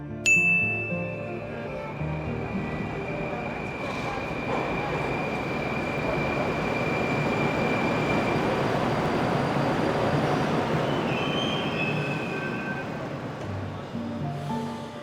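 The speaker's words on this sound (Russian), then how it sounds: "Мы сейчас находимся на станции метро Улдус." A metro train runs through an underground station at Ulduz, a loud sustained rumble and rolling wheel roar building and holding, with a ding chime at the start and faint squeals near the end.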